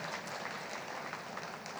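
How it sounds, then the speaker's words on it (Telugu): An audience at a spiritual talk claps steadily, a dense wash of applause with no pauses, moderately loud. "ఒకసారి గట్టిగా క్లాప్స్ కొడదాం."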